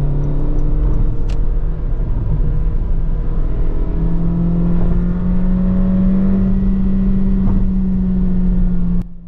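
A Honda Civic LX engine hums steadily from inside the cabin while driving, with a low drone rising in pitch as it accelerates, loud and continuous with no talking.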